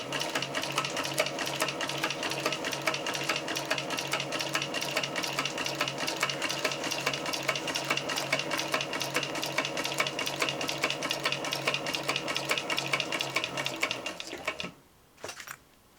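Sewing machine stitching a backpack pocket, a fast, steady rapid-fire needle rhythm running continuously for about fourteen seconds, then halting, with a few brief handling sounds after.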